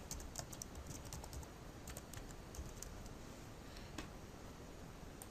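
Quiet, steady typing on a computer keyboard while text is entered into a PowerPoint 2013 slide, soft clicking keys heard faintly over a hissy background.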